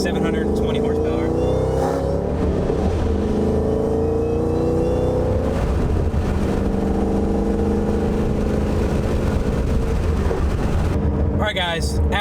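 Close, continuous roar of a 726-horsepower Ford GT500 under heavy acceleration, engine pitch climbing in long sweeps between shifts, with a sharp rev flare near the end.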